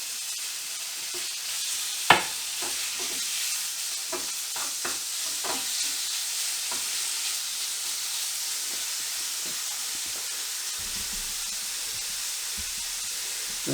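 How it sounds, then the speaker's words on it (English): Chicken, chorizo and sweet potato fry in a pan with a steady hiss and sizzle, and a spoon clacks and scrapes as the food is stirred around, close up with no talk. "Give this a quick stir around."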